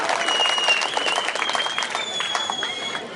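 A crowd at an outdoor political rally in Kirad Pura, Aurangabad claps together in a sustained burst of applause, with a voice and a thin whistle-like tone riding over the clapping.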